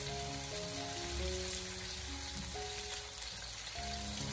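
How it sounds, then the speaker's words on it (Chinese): Star anise and bay leaves are stir-fried over low heat for Cantonese soy sauce chicken, making a quiet, constant frying hiss beneath background music. "然后再继续的开小火，给它不停的翻炒一下，把八角大料给它炒出香味"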